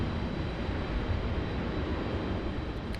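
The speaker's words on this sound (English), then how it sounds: "we'll catch a little bit of the Southwest departure before it can no longer be seen" A Southwest airliner departs Raleigh Durham airport, its engines a steady, broad rumble with a distant, continuous roar that holds level throughout, with no voices over it.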